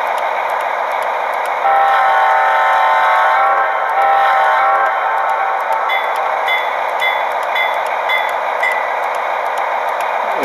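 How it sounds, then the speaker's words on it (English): A Lionel HO gas turbine model locomotive's sound decoder plays a sustained high, tonal, whining brake squeal, loud and steady for several seconds, with no talking. "Of course, these have the brake squeal."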